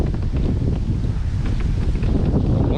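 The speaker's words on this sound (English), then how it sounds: "Wind blowing me into the rocks." Wind blowing on a rocky fishing shore, a steady broadband roar and buffeting against the microphone that stays loud and continuous throughout, with no voices.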